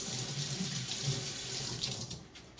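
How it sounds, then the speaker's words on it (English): Water from a kitchen tap runs steadily as hands are rinsed beneath it, close and fairly soft, with the flow shifting slightly before it tapers off near the end. "I'm gonna rinse my hands"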